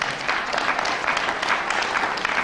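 Audience applause at a lecture on the Virginia and Kentucky resolutions of 1798, at a Nullify Now! event: steady, dense clapping from a crowd filling the room, sustained without pause, fairly loud and close.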